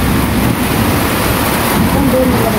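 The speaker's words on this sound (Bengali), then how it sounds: "অবশেষে আমাদের এখানে বৃষ্টি হচ্ছে।" Steady rain falls at a home during monsoon-season cooking, a dense continuous hiss filling the background at moderate level with no clear voices over it.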